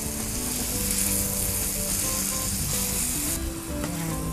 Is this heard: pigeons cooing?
no